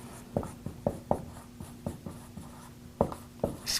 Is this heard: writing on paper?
yes